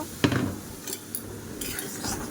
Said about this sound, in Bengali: আমি কিন্তু সুজিগুলো একটু ভেজে নিব